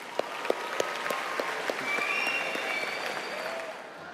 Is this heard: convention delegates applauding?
yes